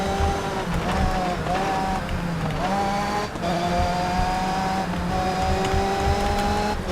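Formula 3 race car in TOCA Race Driver 3, its engine droning steadily and loud throughout with rising and falling pitch through gear changes, plus a faint tire squeal and other cars nearby.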